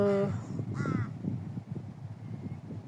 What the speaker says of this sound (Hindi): ये देखो पक्षी